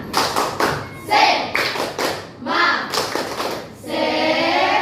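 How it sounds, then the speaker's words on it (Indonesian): A primary school class does a quick rhythmic spirit clap (tepuk semangat) of bursts and pauses, with children's voices mixed in near the end. "sebelum kita lanjutkan tepuk semangat"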